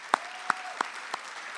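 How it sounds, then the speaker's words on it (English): At a Bishop's University convocation ceremony, four sparse, separate claps ring out in a large hall, fairly faint and fading, like scattered audience applause starting and dying away. "Can we applaud him?"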